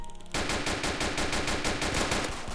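Rapid automatic fire from a G36 rifle in Roblox, a loud sustained burst of evenly spaced shots that starts abruptly after a brief quiet moment and continues unbroken to the end.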